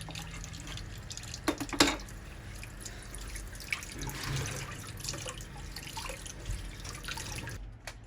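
Running water and drips in a sink while goat trotters are rinsed clean, a steady wet trickle throughout with occasional louder splashes and knocks, close by, no talking.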